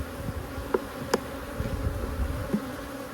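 Honey bees from a newly installed package colony buzz in a continuous, even drone during a hive inspection, with a few closer passes standing out.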